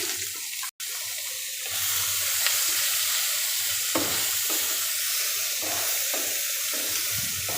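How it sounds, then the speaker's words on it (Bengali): Bay leaf, a little cumin and chopped onion frying in hot oil for a Bengali water spinach stir-fry, giving a steady close sizzle with scraping stirs and a brief drop-out near the start. "একটা তেজপাতা ও খুব সামান্য জিরা দিচ্ছি কিছুটা পেঁয়াজ কুচি দিচ্ছি"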